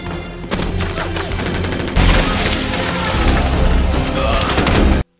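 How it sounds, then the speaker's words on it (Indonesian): Gunfire in a film shootout as police storm lawbreakers, a dense, loud barrage of shots and booms that swells partway through and runs continuously before cutting off abruptly. "lalu terjadi baku tembak di sini"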